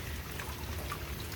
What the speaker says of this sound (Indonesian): hujan terus-terusan kayak gini.